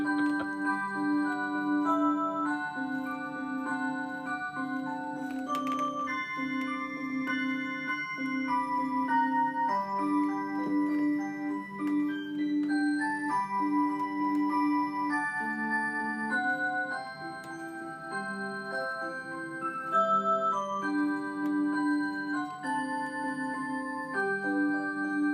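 A battery-powered rhythm clock with low batteries plays a continuous melodic chime tune with a steady tick beneath it, clear and close throughout.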